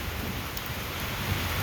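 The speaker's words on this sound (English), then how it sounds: "We've had over an inch of rain here today" Steady rain pours down on a farm in Dorcas, Ohio, a dense, even hiss of drops on surfaces filling the whole moment without speech.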